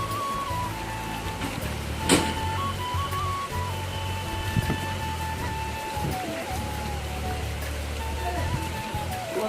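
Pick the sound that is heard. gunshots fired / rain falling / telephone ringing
rain falling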